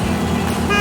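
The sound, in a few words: heavy hauler truck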